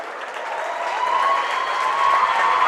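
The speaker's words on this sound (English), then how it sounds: "a round of applause for the Muskies here as all of their seniors on senior night check out here" A crowd at a high school boys basketball game applauds on senior night with steady, moderately loud clapping from a gym full of spectators, building slightly over a few seconds.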